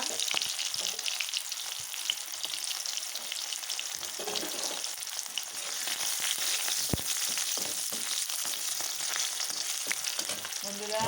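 Bay leaves and chopped onion fry in hot oil with a loud, steady sizzle that runs throughout, broken now and then by stirring, with no voices.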